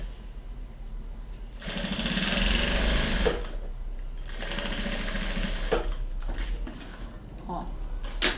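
Sewing machine stitches a seam over a zipper in two loud, steady whirring runs separated by a pause, close by, with small handling clicks and fabric noises in between.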